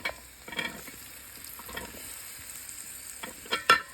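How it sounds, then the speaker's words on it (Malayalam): Carrots and beans stirred into softened onions in a pan for vegetable biryani, frying with a steady close sizzle broken by several scraping stirs and utensil knocks, no talking. "ഇനി നമുക്ക് ക്യാരറ്റും ബീൻസും കൂടി ഇടാം കേട്ടോ."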